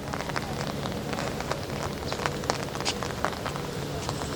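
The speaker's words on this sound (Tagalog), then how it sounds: "Nag-ambon-ambon lang." Light drizzle falls outdoors at a hilltop park, sending a dense patter of small droplet ticks over a soft, steady hiss, close and fairly quiet.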